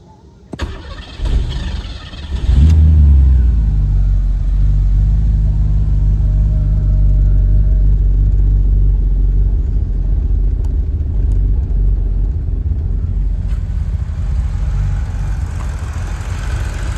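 A Cadillac 4.5L V8 swapped into a Buick Skylark cranks briefly, catches and settles into a steady, low, loud idle that rumbles on alone.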